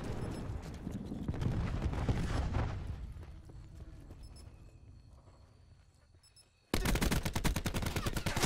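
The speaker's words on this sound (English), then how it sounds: "Cluster grenade." Cluster grenade blasts in Call of Duty: Black Ops 4, a search-and-destroy round on PS4: a dense crackle of rapid explosions that fades into a quieter tail, then a sudden loud burst of bangs near the end.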